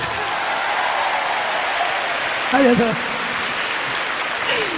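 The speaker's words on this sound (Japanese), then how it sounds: "大きな拍手" A concert audience at a J-POP live show applauds in a steady, dense wash throughout, with a voice briefly speaking over it midway.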